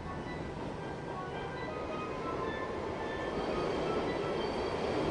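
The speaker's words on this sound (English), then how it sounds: "I walk to the station every morning, take the train into the city." A steady rumbling train ride with dense low roar and faint high squeals from the wheels, continuous and fairly loud throughout.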